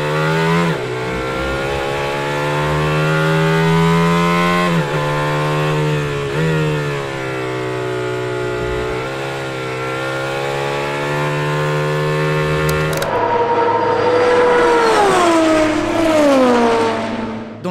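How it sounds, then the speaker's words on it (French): An Aston Martin V12 endurance race car engine screams close and loud at high revs, pitch rising and falling through several gear changes and lifts, with one sharp cut before it winds up again. "Aston Martin débarque avec un putain de V12"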